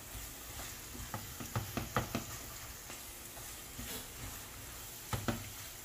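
Ground pork sizzles softly in a pan as a spatula stirs it in scattered scraping strokes, faint and close with no talk.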